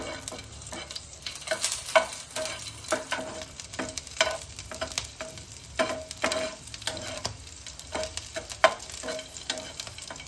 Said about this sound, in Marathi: मिरची आणि लसूण दोन्ही एकत्रच मी याच्यात टाकते। हे चांगलं परतून घ्यायचं।